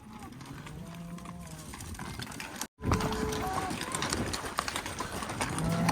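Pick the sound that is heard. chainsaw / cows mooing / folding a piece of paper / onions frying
cows mooing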